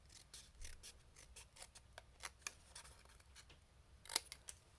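Scissors snip through stamped cardstock in a quick run of close, crisp cuts with small rustles of paper between them, quiet and with no talking.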